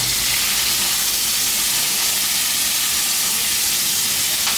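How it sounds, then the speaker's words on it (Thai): Ginger and garlic stir-frying in a hot pan for a Thai sea bass and celery stir-fry, giving a steady, loud broadband sizzle and hiss that runs unbroken throughout with no talking. "ต้องผัดขิงก่อนลองให้กระเทียมเหลืองก่อนนะฮะ"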